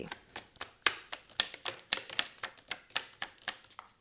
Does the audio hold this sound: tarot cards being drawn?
yes